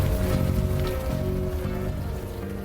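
Steady rain hisses and patters on surfaces in the video game Unavowed, a soft continuous wash with no talk over it.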